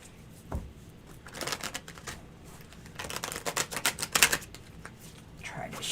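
Tarot cards being shuffled by hand, soft riffling flutters in short bursts, quiet and close with pauses between.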